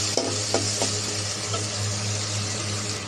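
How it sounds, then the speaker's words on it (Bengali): Chopped onion and small shrimp sizzle in oil in a pan, a steady close frying hiss with a few brief scraping stir strokes, no talking. "পেঁয়াজ আর চিংড়ি মাছ ভাজা হয়েছে"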